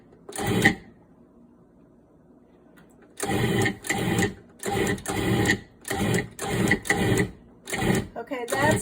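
Food processor pulsing pie dough in a home kitchen: after a lone burst and a short pause, a rapid series of loud, short motor pulses whirs and chops in an even rhythm, up close.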